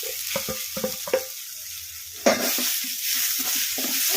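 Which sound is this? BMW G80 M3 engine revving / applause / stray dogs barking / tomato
tomato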